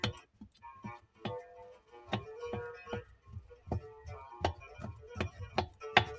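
A fork pricks Algerian galette (ftir) dough sitting in a pan, producing about a dozen crisp, evenly spaced taps, close and fairly quiet.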